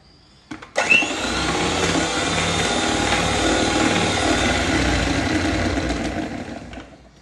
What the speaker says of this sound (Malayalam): ഇനി ഇതിലേക്ക് 1/2 ടേബിൾ സ്പൂൺ ഓയിൽ ചേർത്തിട്ട് ജസ്റ്റ് ഒന്ന് ബീറ്റ് ചെയ്യുക കേട്ടോ